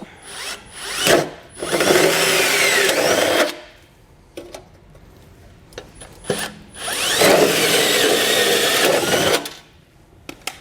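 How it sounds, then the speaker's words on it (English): A hole saw on a power drill bores holes in metal during a trailer hitch install on a 2021 Subaru Forester: two long, loud grinding bursts of several seconds each, separated by short buzzing spurts and pauses. "So I'm just going to use a hole saw."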